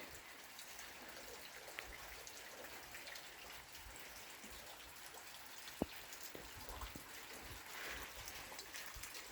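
Autumn rain falling outdoors, a soft steady patter of drops with a few sharper close drips standing out, faint and continuous with no voices.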